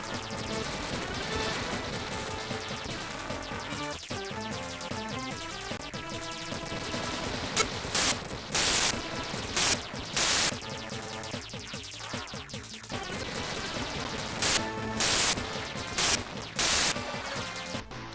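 Harsh, garbled emulated video game music from a Game Box Pandora's Key 3D 7 console, with crackling static and bursts of loud noise that repeatedly break in and out, sounding badly glitched.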